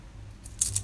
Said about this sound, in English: I might cut this one a little bit higher up.